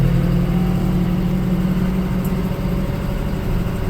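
A 1023 compact tractor engine idles during road grading work, a steady, loud, low rumble that holds evenly throughout with no talk.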